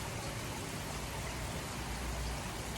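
Heavy rain pours steadily in a dense, unbroken hiss, close and constant with no voices over it.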